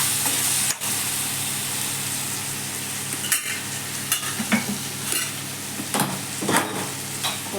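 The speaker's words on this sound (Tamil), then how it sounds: "கத்திரிக்காய் நல்லா எண்ணெயில் வதங்கிச்சுங்க" Brinjal pieces sauté in hot oil in a pan, with a steady close sizzle broken by scattered stirring scrapes and clicks of a spoon, and no talking over it.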